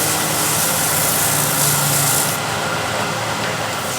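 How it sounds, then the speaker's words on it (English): An oak box being polished by rubbing it with wood shavings gives a steady, close, dry rubbing hiss that runs without a break. "So just polish it up a little bit with shavings"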